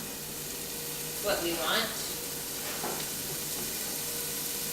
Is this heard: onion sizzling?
yes